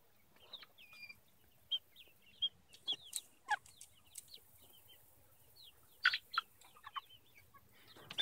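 Chickens cluck in short, scattered bursts, several birds close by calling irregularly against a quiet background.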